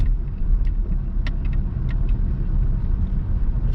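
A car drives through a small town on the Yucatan coast, giving a steady, close low engine and road rumble with faint higher ticks throughout and no talking.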